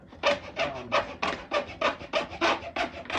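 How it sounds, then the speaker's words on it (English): A hacksaw cuts through a small piece of wooden door molding with a quick, steady back-and-forth rasp, about a dozen close, loud strokes in even rhythm. "that's how quick you can cut through a piece of wood"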